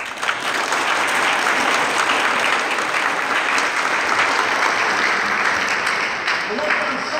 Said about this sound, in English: I'd just like to give a round of applause for our adjudicators, Mr. Chris Parrish and Dr. Mark Dickey.